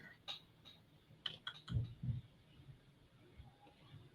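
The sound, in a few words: typing a name on a computer keyboard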